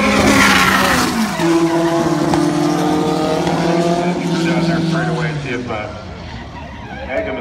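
A drag race car at a racetrack skids with a long tire squeal and engine tones that fall away, ending in a crash into the wall, with an announcer talking over it.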